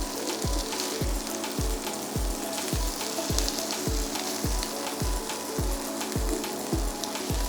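Chicken paprika burgers frying in a pan, a steady sizzle with regular crackling pops that continues evenly throughout with no voices.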